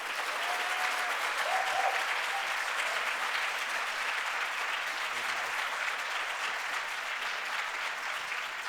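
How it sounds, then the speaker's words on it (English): Sustained applause from a seated audience honoring the authors of the 2024 Jessup International Moot Court Competition problem, a steady wash of clapping hands in a room that holds evenly for several seconds. "give a huge round of applause for these people"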